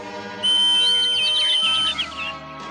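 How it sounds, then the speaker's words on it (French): A magic whistle in a Smurfs cartoon blows one bright, sustained, warbling tone for about a second and a half over soft background music. "Le sifflet magique marche."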